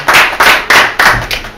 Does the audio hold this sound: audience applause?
yes